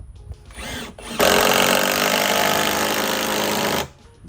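A power driver screws into a wooden post, a loud, close, continuous buzzing whir lasting about two and a half seconds, with quieter handling noise before and after.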